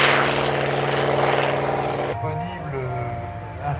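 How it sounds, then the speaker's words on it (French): A late-era propeller airplane with elliptical wings roars as it takes off at the Melun Villaroche airshow, loud and sustained droning engine noise that shifts in pitch as it passes, with a voice talking over it. "Au décollage, on a un autre avion ultime de la fin des avions à hélice."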